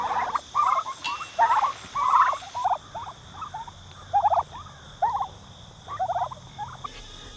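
Farm turkeys gobble repeatedly in quick rattling bursts, several calls overlapping at moderate distance, with a faint steady hum behind them.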